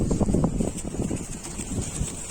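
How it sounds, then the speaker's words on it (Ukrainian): Hurricane-force wind buffets the microphone at a construction site with a loud, rough, continuous roar and gusty rumbling, close and unbroken. "знімаю для тебе відео такий ураган, що я ще такого урагану не бачив"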